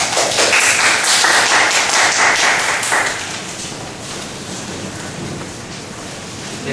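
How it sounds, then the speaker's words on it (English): An audience at a talk gives a speaker dense, loud applause, a hissing roar of many hands that holds steady for a few seconds and then thins to a softer patter. "please give him a thunderous applause."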